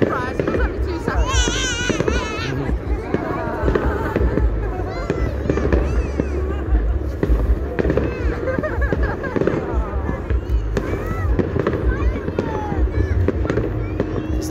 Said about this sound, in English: The entire bridge is loaded with fireworks